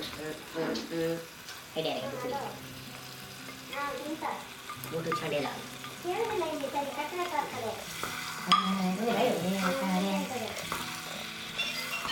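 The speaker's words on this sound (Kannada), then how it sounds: "ನಾನು ಕುಬುಸೆ ಫ್ರೈ ಮಾಡಿ ಕೊಡ್ತಾ ಇದ್ದೀನಿ" Clams sizzle as they fry in a home kitchen pan, a steady moderate hiss with occasional stirring clatter, while a person talks over the cooking for most of the stretch.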